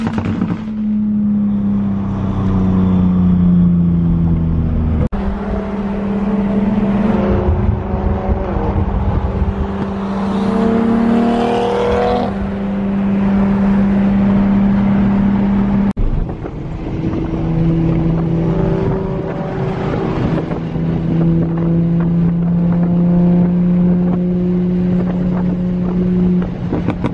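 Several Toyota Supra cars cruising together, engines droning and revving in long rising pulls with wind buffeting the microphone, loud and close throughout.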